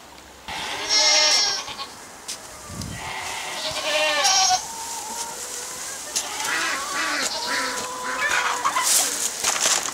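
Goats bleat repeatedly at close range while being fed freshly cut bamboo stems in a suburban community garden allotment, with a rooster or other birds calling in the background and a faint voice now and then.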